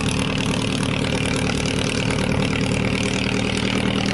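The engine of a Vietnamese fishing boat carrying ice rumbles steadily as it heads out from shore, a loud, continuous idling chug heard close and alone.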